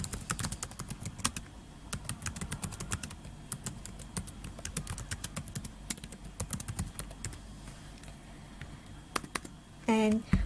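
Fast, continuous clatter of a computer keyboard as Python code is typed, close and crisp with irregular bursts of keystrokes, a brief louder thump near the end.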